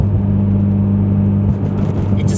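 A Mitsubishi Evo X with a new turbo and single exit exhaust idles in a loud, steady low rumble from close by, with no revving.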